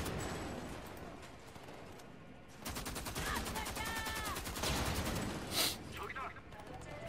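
Gunfire in the shooter game Homefront: The Revolution: rapid machine-gun bursts and repeated shots crackle in dense, rhythmic volleys under someone talking.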